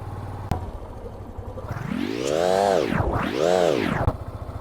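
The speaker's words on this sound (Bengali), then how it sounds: "কক্সবাজার সি বিচে আমি বাইক চালাইতেছি গেদু" A motorbike ridden on the sand of Cox's Bazar sea beach: a low idle rumble, then the engine revs up and falls away twice in smooth swells, close and fairly loud, with no talking.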